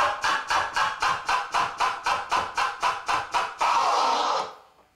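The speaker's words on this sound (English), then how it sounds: "You're simultaneously moving the fader and the vinyl to create a cutting sound." Turntable scratching on vinyl with the mixer fader chopping it, heard as a fast run of about a dozen short, evenly spaced cuts followed by one longer sustained scratch that fades out.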